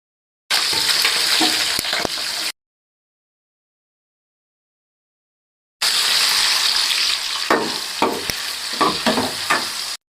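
Curry leaves and whole masala spices fry in hot oil for paneer biryani, with loud, close crackling sizzle and stirring scrapes in two bursts separated by a few seconds of silence.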